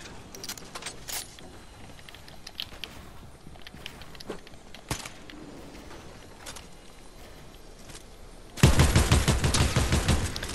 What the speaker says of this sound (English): How is he shooting me from behind there?